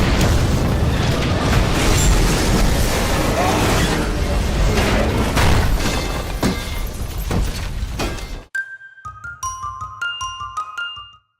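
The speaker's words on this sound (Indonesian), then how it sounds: "seluruh gas di tempat itu telah Thomas ledakan ke arah mereka." A loud, sustained roaring gas explosion blast with crackling debris fills most of the clip, then cuts off to quieter tinkling, tonal sounds near the end.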